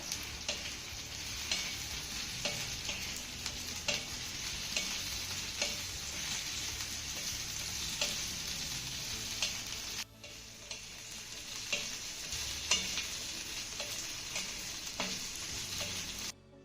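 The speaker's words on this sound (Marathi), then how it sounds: "चिरलेली भेंडी यामध्ये घालूया आता ही भेंडी ना आपल्याला चांगली हलके डाग पडेपर्यंत भाजून घ्यायची आहे" Chopped okra fries in hot oil in a pan, a steady dense sizzle broken by regular ticking scrapes of a stirring spoon, loud and close with a brief dip near the end.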